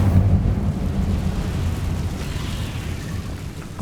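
An Incendio fire spell cast in Hogwarts Legacy bursts out as a heavy, rumbling roar of flame that stays loud and close for a few seconds before easing slightly.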